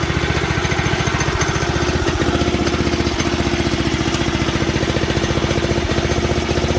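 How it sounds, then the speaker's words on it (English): An old flathead engine on a Montgomery Ward VT525 mini bike idles steadily and loudly up close, its fast, even chugging pulse holding for the whole stretch with no other sounds. "Gotta bring the idle down a hair. Good old school flathead. Love the sound."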